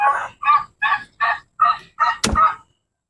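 A turkey gobbles in a run of seven quick, regular honking calls, loud and close, with a sharp click or knock near the end.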